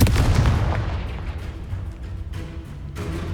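A Confringo blasting spell bursts in Hogwarts Legacy during a duel, a loud booming explosion at the start that rumbles and fades over a few seconds, with no talk.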